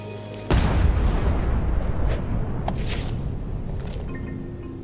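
A single loud cannon blast in Return to Monkey Island, a sudden heavy boom that rolls into a long rumbling decay, followed by fainter cracks and debris.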